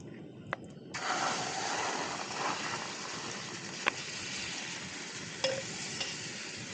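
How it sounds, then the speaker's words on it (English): Eggs pan fried in a skillet and stirred with a spatula, cooked on a hiking trail: a steady close sizzle that starts after a brief scrape. Occasional sharp clicks of the spatula against the pan cut through it. "pan fry the eggs, stirring with a spatula until scrambled and firm"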